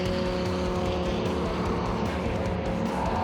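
Twin-turbo V10 race car at a Bridge to Bridge street-circuit event, its engine roaring loudly and continuously past at close range with a steady mechanical drone and no talk.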